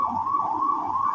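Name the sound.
ambulance siren passing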